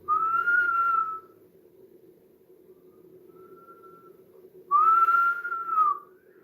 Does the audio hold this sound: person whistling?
yes